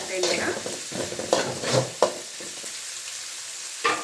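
Sprouted green gram fries briefly in a little oil, a close sizzle broken by several spoon-stirring scrapes, some louder than others, with no one speaking.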